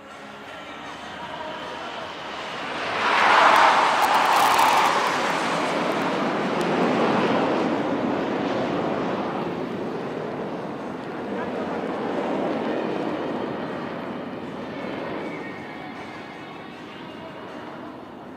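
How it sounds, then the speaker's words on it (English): Military jets from the Indian Air Force sweep past at an aerial display, a loud roaring whoosh that swells, peaks and fades into a broad distant rumble as the aircraft cross. "These aircraft will now be crossing each other right in front of you."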